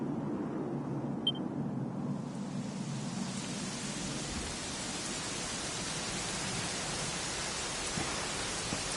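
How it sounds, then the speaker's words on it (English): Rain falling in the video game Dragon Quest XI, a soft, even hiss of steady rainfall that swells in after a quiet start and then holds constant and faint, with no voices. "it was raining like this the last time I ever saw her"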